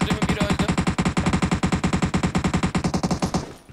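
Rapid automatic gunfire in the game PUBG Mobile, a long loud burst of evenly spaced shots that stops abruptly near the end.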